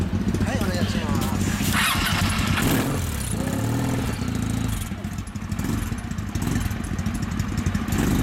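Kawasaki W series twin-cylinder motorcycle idling close by in a steady rumbling loop, a brief revving swell in the middle, with people talking over the engine throughout.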